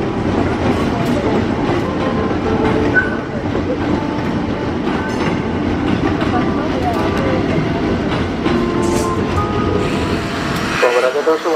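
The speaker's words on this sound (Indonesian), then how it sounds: "KRL 20532 dan 9 masuk jalur 4 persiapan langsir." KRL electric commuter train pulling into a platform track at Bogor station, a steady rumble with rhythmic wheel clatter and occasional faint squeals, under talk from a person nearby, ending with a sharp knock.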